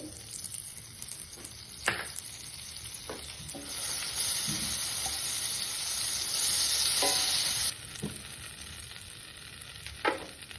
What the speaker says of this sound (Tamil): பூண்டு பொன்னிறமா வதங்கணும்.